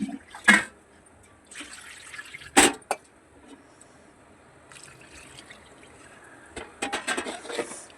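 Water is poured into a pot of village-style black eggplant curry being cooked for ten to twelve people, coming in short splashing bursts separated by quiet gaps, with a run of trickling near the end.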